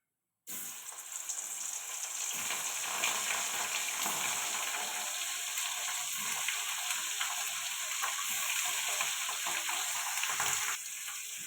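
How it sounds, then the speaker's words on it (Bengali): Steady, loud sizzling and crackling of bashpata fish frying in hot oil in a kadai, continuous from start to finish with no talking. "মাছটা ভালো করে মাখানো হয়ে গেছে এবার এটা ভাজব"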